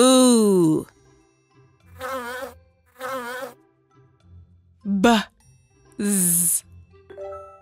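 A voice imitates a buzzing insect sound, saying a drawn-out buzz several times in a row, spoken clearly and up close in a children's reading lesson.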